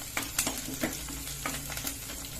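Onion and turmeric powder sizzle in a hot pan for drumstick sambar while a spoon scrapes and stirs them in a few quick strokes.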